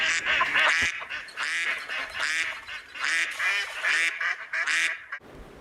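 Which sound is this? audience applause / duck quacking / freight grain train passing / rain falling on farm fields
duck quacking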